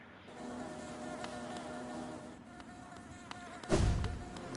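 Bees drone in the Hollow Knight video game, a continuous buzzing hum of several insects holding steady, with a brief louder thump near the end.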